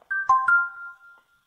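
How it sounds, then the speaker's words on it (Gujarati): A phone message notification chime sounds once, a short bright two-note electronic tone with a ringing tail that fades within about a second. "તારો મેસેજ આવ્યો."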